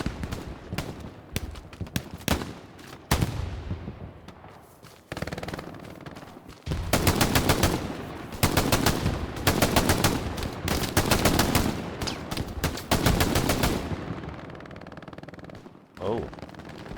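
Sustained automatic machine gun fire in the World War II shooter game Hell Let Loose, loud rapid bursts with brief gaps between volleys, some distant shots and scattered gunfire around them.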